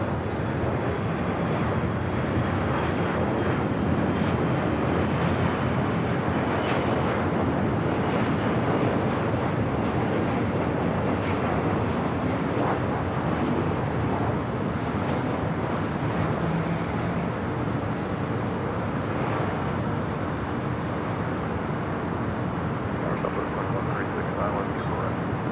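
A WestJet Boeing 737-800 arriving at LAX makes a broad, steady jet roar that holds at an even level for the whole stretch, heard from outside with a windy wash over it.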